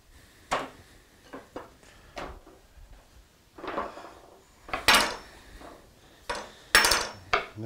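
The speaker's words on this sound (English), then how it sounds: "Let me get a plate to put those on." Dishes clatter in a home kitchen as a plate is fetched, with scattered close knocks and ceramic clinks from pots, pans and cutlery in irregular bursts, no talking.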